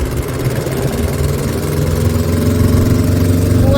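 A loaded tractor's engine drones steadily at close range, a continuous rumble that holds level and grows slightly stronger toward the end, with no voices over it.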